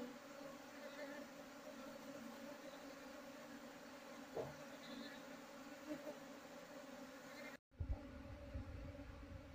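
A colony of Apis cerana honey bees buzzing around a beekeeping box, a dense continuous droning hum close by, with one brief cutout near the end.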